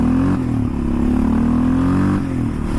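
A loud two-stroke 500cc engine on a Suzuki LT500R quad from 1987–1990 revs steadily, its low throaty drone rising slightly in pitch and holding close and continuous throughout.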